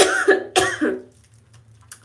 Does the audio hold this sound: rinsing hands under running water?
no